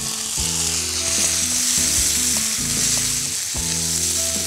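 Tomato pieces, curry leaves and fennel seeds sizzle loudly and steadily in a hot pan for a pumpkin beans masala, a dense frying hiss with occasional stirring clatter and no voices.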